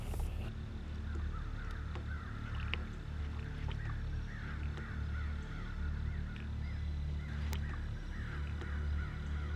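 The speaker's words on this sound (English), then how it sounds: "not ducks, but hundreds of crows" Hundreds of crows caw over a beaver pond at daybreak, a dense, steady chorus of overlapping calls at middle distance over a constant low rumble of background noise.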